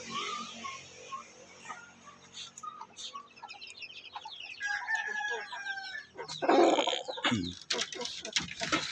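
Native chickens on a farm cluck and crow in a busy, overlapping mix of calls, with a louder burst of flapping and clucking near the end and no talking.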